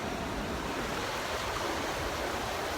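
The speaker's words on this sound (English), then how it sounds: "This is the ocean." Ocean surf in Bali, Indonesia: a steady, dense wash of breaking waves that fills the whole clip without pause, fairly close and even in loudness, with no voices over it.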